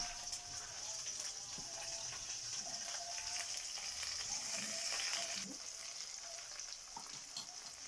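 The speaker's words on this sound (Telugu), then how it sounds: "అన్నీ వేసి ఫ్రై చేసుకుంటున్నానండి" Cumin seeds, chilies and curry leaves fry in peanut oil in a pan, giving a steady, dense sizzle and crackle that holds for the whole stretch with faint stirring underneath, no voices.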